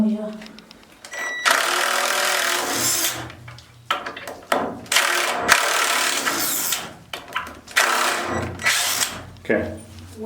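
A screw gun drives screws into a wooden board in a root cellar dig, giving loud, close bursts of whirring and ratcheting separated by short pauses, with people talking in between.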